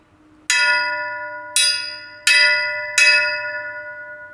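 A small hanging bell is struck four times at uneven intervals. Each clear metallic ring sustains and decays, close and fairly loud, with no talk.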